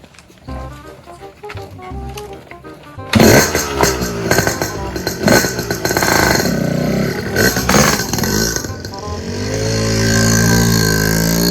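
Motorcycle engine starts up and revs loudly after a short quiet stretch, its roar rising and falling close by with a steady idle toward the end, while people talk faintly underneath.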